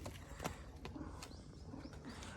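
Faint pigeons cooing in short soft bursts, with a few light chirps and thuds in the background.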